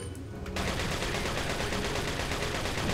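Gunfire in Resident Evil 4 sets in after a quieter half second, becoming a loud, dense, continuous barrage of shots that lasts to the end.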